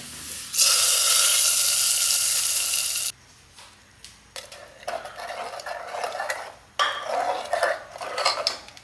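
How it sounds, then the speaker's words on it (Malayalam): Shallots and dried red chillies sauté in coconut oil, starting with a loud, steady hiss that cuts off abruptly. Quieter stretches follow, broken by bursts of sizzling and clattering from stirring in the pan, with no voices. "വെളിച്ചെണ്ണയിൽ നമുക്ക് ചെറിയ ഉള്ളി, പിന്നെ അതിലേക്ക് നമ്മൾ വറ്റൽമുളകും ചേർക്കുന്നുണ്ട്"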